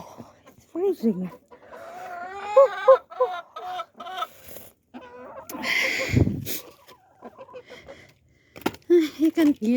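Backyard chickens cluck in short bursts close by during a snowstorm in Ohio, mixed with a person talking, footsteps and a brief rustle.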